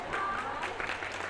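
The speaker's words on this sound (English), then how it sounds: "Let's give everyone a round of applause today." A crowd applauds at a school cardboard boat race held at a pool, a brief, steady burst of clapping at moderate distance, mixed with faint voices.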